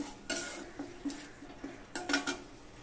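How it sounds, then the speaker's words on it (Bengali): Ground coriander paste stirred into spices in a pan while cooking vegetarian soybean curry: a few scraping strokes of a utensil against metal over a low background, close but fairly quiet, with no voices. "তো নেড়ে চেড়ে মিশিয়ে নিব"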